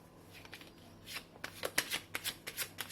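Tarot cards being shuffled close up, heard as soft riffling that grows into a quick run of crisp, rhythmic slaps, fairly quiet overall.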